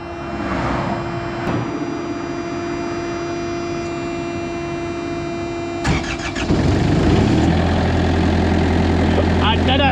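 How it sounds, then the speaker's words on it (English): A truck's diesel engine cranks and catches after a few seconds, then settles into a steady, low rumbling idle; a hum runs beneath before it starts. "diesel engine starting"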